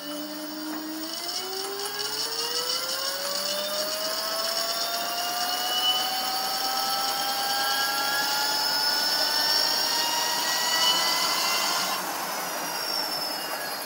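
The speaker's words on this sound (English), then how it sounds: "what you can hear there is the rasping of the disc brake because the caliper's not set up quite" A hub motor driven by a 72 volt Hua Tong controller spins up with no load, its whine rising steadily in pitch over a persistent rasp from a badly set disc brake caliper, loud and close with no talking.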